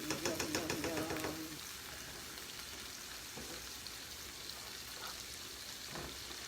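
Rice being stirred and frying in a skillet, a continuous soft sizzle with scraping stir strokes at the start under a brief voice, then frying alone at low level.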